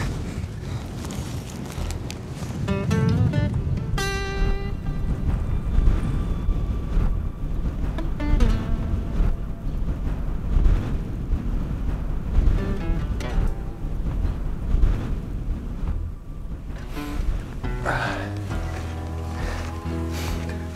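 Strong winter wind on a snowy fell in Pallas-Yllästunturi National Park during a hike, a loud continuous roar and buffeting against the microphone throughout, with scattered tonal noises and no talk.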